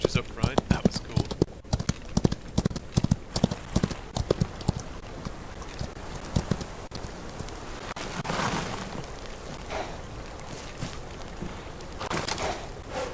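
Horse hooves galloping in the video game Outlaws of the Old West: rapid rhythmic thuds in a quick running pattern, fairly close, with louder bursts and game effects mixed in.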